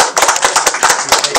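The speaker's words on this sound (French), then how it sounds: "applaudissez très fort pour elle" Lively applause from a crowd, a dense patter of many hands clapping with no talking.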